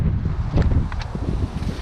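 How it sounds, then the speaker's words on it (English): Gusty wind buffets the microphone with low rumbling bursts, a few faint rustles mixed in, loud and close for under two seconds. "It's a beautiful day, but it's very windy out."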